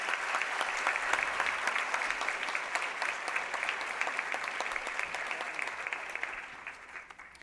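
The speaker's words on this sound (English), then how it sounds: "Please give them another big round of applause" Audience at a 2017 graduation ceremony applauding, dense steady clapping from a large crowd that fades toward the end.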